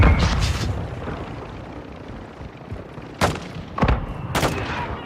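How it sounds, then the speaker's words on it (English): Mortar rounds landing in Modern Warfare 2, a heavy boom at the start, then three sharp, loud blasts in quick succession near the end with quieter rumble between them. "Oh my god, mortars."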